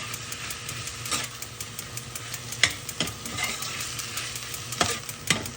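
Saltfish frying in a pan, a close, continuous sizzle with stirring scrapes and a few sharp clicks of the utensil against the pan, no voices over it.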